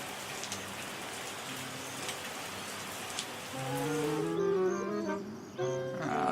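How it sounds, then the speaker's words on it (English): Steady rainfall patters in the Terroir wine-making simulator game, a constant hiss of drops, with soft musical tones rising over the rain toward the end. "here comes more rain"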